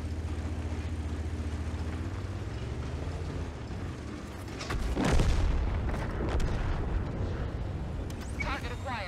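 In World of Tanks, an E50 fires a HEAT round that bounces off the enemy tank's armor. A single heavy booming shot rings out midway over a steady engine drone, with a voice talking throughout.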